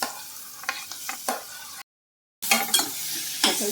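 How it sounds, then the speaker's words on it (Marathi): Turmeric and chillies fry in hot oil for a guava pickle, with soft sizzling and a few scraping stirs of a spoon in the pan, broken by a brief silent gap midway. "परतून घ्यायचं चांगलं परतून घेतलं"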